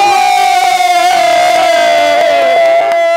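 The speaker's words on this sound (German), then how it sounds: "herzlichen Applaus an Wilson!" A loud, dense crowd roars and cheers at a bubble football match, a steady wall of voices with sustained shouted tones and a few sharp accents, no clear clapping standing out.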